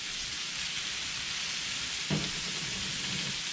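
Peppers sizzle in oil on a Blackstone griddle, a steady close hiss of frying with a brief louder scrape or clatter partway through, no voices.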